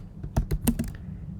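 A few quick keystrokes on a computer keyboard, about five sharp close clicks in a brief burst while a ChatGPT prompt is typed.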